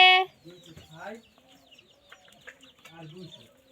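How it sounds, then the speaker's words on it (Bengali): Chickens clucking near a home with goats: a loud squawk at the start, then soft scattered clucks and short calls close by, under quiet talk. "আমার কাছে মুরগি আছে।"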